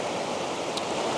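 River flowing below a mountain, a steady, even wash of moving water heard alone and unbroken, with one faint brief tick partway through.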